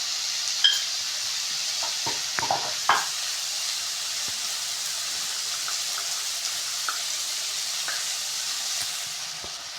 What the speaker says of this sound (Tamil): சோயா சாஸோட இது எல்லாத்தையும் மொத்தமாக போட்டு நல்லா மிக்ஸ் பண்ணிக்கோங்க.